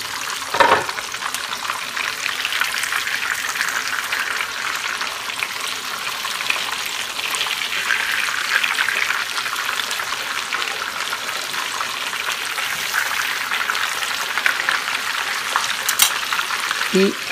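Breaded pork chops sizzle steadily in a frying pan, a constant hissing crackle with a brief scrape near the start and again near the end as the chops are shifted.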